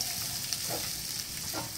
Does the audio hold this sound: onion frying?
yes